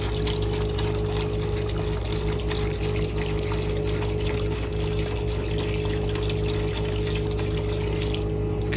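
Water poured steadily into a tank while descaling a tankless water heater, a continuous rushing trickle at close range over a low pump-like hum, alone with no talk.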